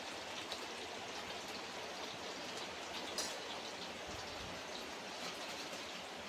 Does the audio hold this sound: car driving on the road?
no